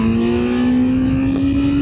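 A smooth, steady four-cylinder engine of a 2025 Kawasaki Z900 motorcycle holding a loud, even drone at high revs, close by, with no voices.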